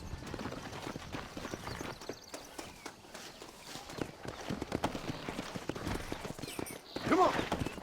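Video game horse hooves clip-clopping in a steady walking rhythm on a Western trail in Red Dead Redemption, moderately close, with a brief snort or neigh near the end.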